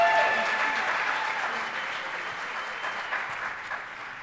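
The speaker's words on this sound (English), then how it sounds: "let's give our students a round of applause" Audience clapping for high school chorus students at a Durham Public Schools all-county concert, a sustained, even burst of applause that gradually tapers while a faint voice sits in the background.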